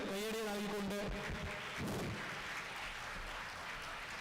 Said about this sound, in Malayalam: വലിയൊരു കയ്യടി നൽകിക്കൊണ്ട്